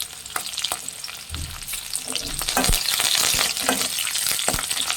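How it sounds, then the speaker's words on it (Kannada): Garlic, green chillies and curry leaves frying in a pan for restaurant-style Chicken 65: a constant close crackling sizzle with spatula stirs and scrapes, fairly loud, with no voices. "ಇದನ್ನು ಚೆನ್ನಾಗಿ ಫ್ರೈ ಮಾಡಬೇಕು"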